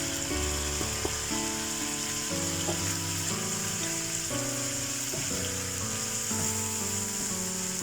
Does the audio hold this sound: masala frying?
yes